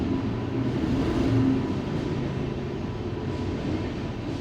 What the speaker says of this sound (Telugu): ట్రైన్లు వెళ్తూనే ఉంటాయి అన్నమాట